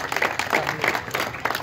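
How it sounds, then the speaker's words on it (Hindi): A crowd claps for an honoured ustad at a Lahore apprenticeship rasam ceremony. The loose, uneven bursts of clapping come over a noisy crowd, with voices mixed in. "इनके लिए जबरदस्त तालियां जी।"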